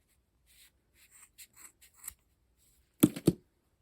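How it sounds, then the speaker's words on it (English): Scissors snip through wrapped yarn loops to free a pom-pom: a couple of light scratchy strokes first, then two crisp, close cuts near the end, with no talking. "Cut that off, and then cut through your loops."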